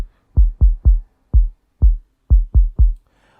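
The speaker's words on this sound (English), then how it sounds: "This is how the kick sounds like in this track." An Afrohouse kick drum programmed in FL Studio plays eight deep, punchy thumps in a bouncy, syncopated rhythm, loud and dry with nothing else underneath.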